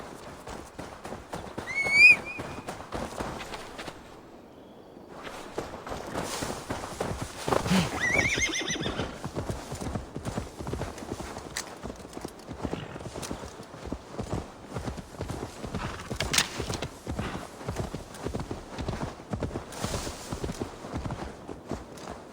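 A horse whinnies twice, shrill and nearby, over a long steady run of hooves clip-clopping at a brisk pace, in the video game Assassin's Creed Valhalla.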